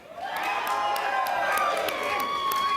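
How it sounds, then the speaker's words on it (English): A crowd cheers and applauds for a performer called Haiku Jim, a steady dense wash of clapping with shouts and whoops rising over it, with a voice audible in the mix. "I want a rousing round of applause for Haiku Jim"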